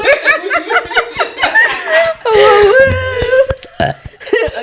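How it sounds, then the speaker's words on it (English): A long, loud burp from someone close by, followed by laughter and chuckling from others nearby. "Let me burp really quick."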